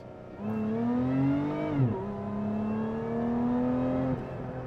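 Lotus Emira sports car engine revving up in a rising pitch, dipping briefly as a gear changes, then pulling steadily again; loud, close and continuous with no talk.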